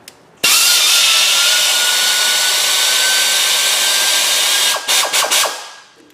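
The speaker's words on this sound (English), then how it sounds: "Air ratchets do not like swivels," Air ratchet fitted with a swivel, run against rusty suspension bolts on a Ford F-250 during ball joint and tie rod end work, gives a loud, steady pneumatic whir for about four seconds, then a few short stuttering bursts as it catches and stops.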